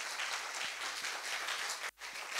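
Church congregation applauding at a French-language sermon, a steady wash of many hands clapping that fills the whole stretch, briefly cutting out near the end before resuming.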